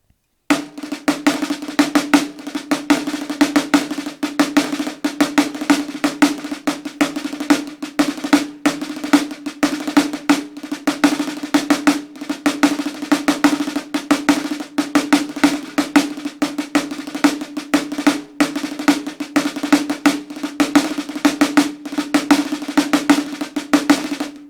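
Snare drum playing a dense rudimental march in 10/16 time, aggressively phrased rapid strokes continuing steadily without pause, close and loud, no talking.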